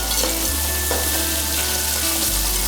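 Onions sprinkled with a little salt shallow-fry in a pan, giving a loud, steady sizzle that runs unbroken and close-up with no voices.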